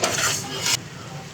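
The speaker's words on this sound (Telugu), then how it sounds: "చికెన్ వేసుకున్నాక కలుపుకోండి." Spoon stirring chicken in a cooking pot for a chicken gravy, a brief burst of loud scraping and clinking that stops abruptly, leaving a faint background hum.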